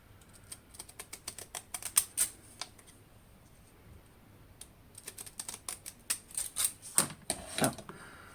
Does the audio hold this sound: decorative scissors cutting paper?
yes